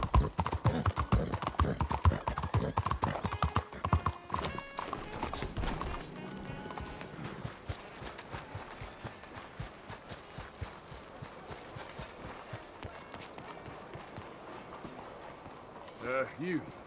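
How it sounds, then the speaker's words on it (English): Horse hooves clip-clopping at a steady rhythm in the Red Dead Redemption 2 video game, close and clear, with speech over the hoofbeats and a short whinny near the end. "Hey, moving horse. Watch out!"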